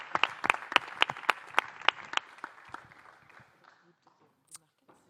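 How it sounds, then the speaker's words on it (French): Applause from the audience at a startup competition, heard as a quick run of sharp, distinct claps that thins out and fades to a few scattered claps, suggesting a small crowd. "sous les applaudissements"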